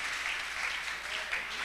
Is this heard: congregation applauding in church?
yes